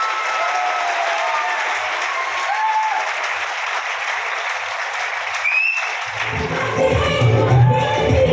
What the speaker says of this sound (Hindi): आना चाहते हो तो जोरदार तालियां बजा के आगाज कर दो।